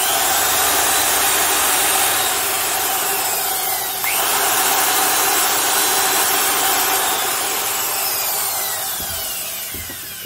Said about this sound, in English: all you have to do is give them a quick run to know if it really is decent.